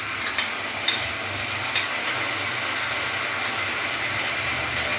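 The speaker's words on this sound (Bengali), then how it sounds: "এবার এর মধ্যে আমি এই আদা রসুনের পেস্টটা দিয়ে দেবো।" Ginger garlic paste frying with onions in a pan, a steady close sizzle with occasional small stirring clicks and scrapes, no talking.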